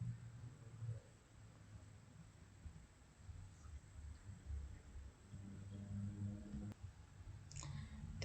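A computer mouse clicks while data is being moved into SPSS statistics software: a faint, isolated click over steady low background hum.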